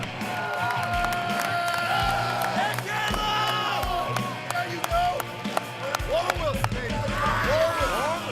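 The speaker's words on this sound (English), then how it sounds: "A rowdy cheering section spurs Caleb Hawkins to a sub-1 minute time in the standing block" A rowdy crowd cheers and whoops at a timber sports standing block chop, with sharp axe strikes ringing through the continuous loud roar of voices and a commentator talking over it.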